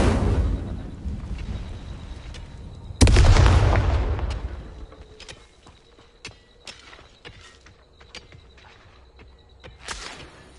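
Incendio fire spell cast in Hogwarts Legacy: a sudden loud blast bursts in, then fades into crackling impacts and scattered sharp hits, following an earlier rumbling burst, with no voices.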